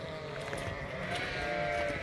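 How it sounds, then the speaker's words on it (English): Sheep bleat during morning feeding over dry hay, with a steady blend of overlapping calls from a flock and constant background noise, moderately faint, no talk. "Just feeding sheep this morning."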